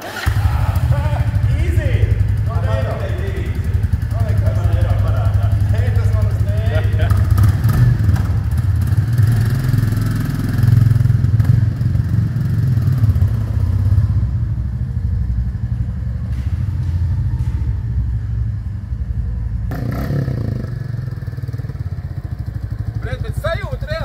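A motorcycle engine with a huge exhaust runs loud and steady throughout, a deep rumbling idle with occasional revs and clatter, while people talk over it.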